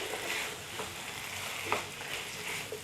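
Chopped capsicum and onion fry in a pan, a moderate, continuous sizzle close by with a few light spatula scrapes and stirring taps.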